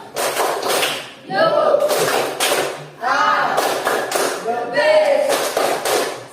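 A classroom of students performs a 'tepuk salut' cheer, bursts of rhythmic group clapping in several loud sections separated by short gaps, with children's voices chanting along between and over the claps.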